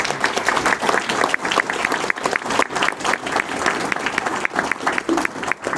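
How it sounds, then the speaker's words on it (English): An audience at an October 2022 League of Women Voters school board candidate forum in Goshen claps in steady, full applause that carries on without pause for the whole stretch. "So please, a round of applause."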